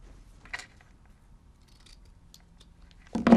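Scissors snipping a small strip of ribbon during a stamping craft project: a single quiet snip early on, a few faint ticks, then a louder close rustle and clack at the end, with no talking.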